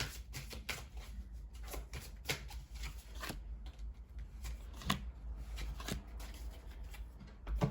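A deck of cards shuffled for a card reading, with repeated crisp riffling bursts and soft slaps in an ongoing, moderately close sequence and no talk.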